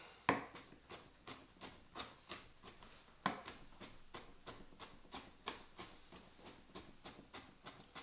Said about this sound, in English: now we've got a nice fine mince there on our garlic